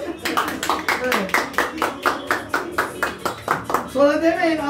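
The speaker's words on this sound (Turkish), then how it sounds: "Alkışlayalım." Audience clapping in a steady rhythmic unison beat, loud and close, with a voice speaking over the clapping toward the end.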